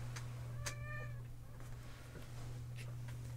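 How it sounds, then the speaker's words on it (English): A lone cat meows repeatedly in the Henry Stickmin Collection game during the airship infiltration. There are several short, distinct meows over a steady low hum, with no talking. "This lonely cat is just, like, meowing away at me down below"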